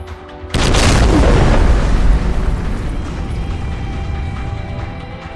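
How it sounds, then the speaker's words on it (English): In the Army of Two video game, an explosion tears a hole through a wall: a sudden loud boom after a brief quiet moment, then a heavy rumbling roar that slowly fades while debris settles. "You won't believe this, but the explosion tore a hole through the wall."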